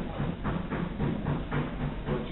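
Rhythmic rumbling clatter of a moving train, steady and fairly loud throughout with periodic wheel beats, no voices.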